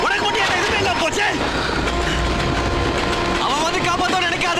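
A train rolls along railway tracks with rhythmic clickety-clack and rumbling wheels, loud and close, mixed with film-scene sound and brief voices.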